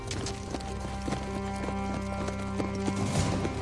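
Horses' hooves clip-clop in a steady, repeated rhythm as riders take a rough shortcut, the hoofbeats close and clear over a dense, continuous background.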